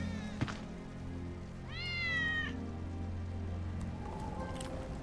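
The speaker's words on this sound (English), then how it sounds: "That's Wedge's cat." A cat meows in Final Fantasy VII Remake: one clear, drawn-out meow rises in the middle over a low, steady game ambience, followed by a fainter call near the end.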